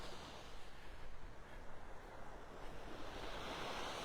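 Ocean waves wash onto a beach in North Naples, Florida, a continuous broad rushing surf with gentle swells and some wind noise on the microphone, quiet and steady with no voices.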